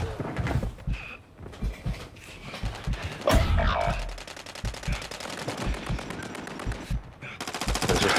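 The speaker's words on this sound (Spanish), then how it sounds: "¡Me están disparando!" Automatic gunfire in the shooter game Warzone, with repeated rapid bursts and single shots, some close and loud and others farther off, cutting through the game's ambient sounds.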